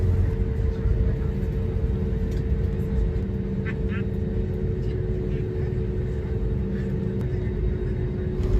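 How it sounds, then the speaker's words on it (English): A Frontier Airlines jet pushes back and taxis toward the runway at Atlanta airport, heard from inside the cabin as a steady engine drone and low rumble with a constant whine, and a few faint clicks along the way. "So now that we're pushing back, taxiing to the runway"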